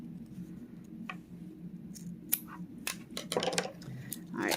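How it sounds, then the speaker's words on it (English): Scissors snipping the loose cord tails off a square-knot hemp bracelet, a few quiet, sharp cuts spaced irregularly among faint handling rustles in a calm room. "using our scissors, we're just going to cut those tails off"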